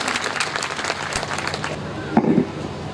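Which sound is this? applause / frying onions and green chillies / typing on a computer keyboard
applause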